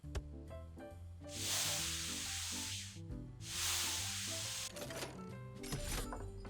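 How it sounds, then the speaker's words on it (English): Two long hissing bursts of spray paint, each lasting over a second, are applied to a vintage restoration piece, with clinks and background music playing steadily beneath and between the sprays. "The painting isn't overly complicated. You just kind of point and spray."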